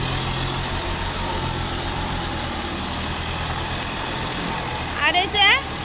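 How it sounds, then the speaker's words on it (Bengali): A large tractor ploughs farmland, its engine a steady, continuous low drone throughout, with brief chirping near the end. "এই যে আমার বাবার বাড়িতে ট্রাক্টর দিয়ে জমি চাষ করছে।"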